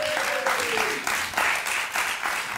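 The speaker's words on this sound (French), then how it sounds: "mesdames et messieurs, je demande d'applaudir le prochain." A comedy club audience applauds comedian Stéphane Whitfield, a full, dense wash of clapping with rhythmic surges and a brief voice at the start, continuous for the whole stretch.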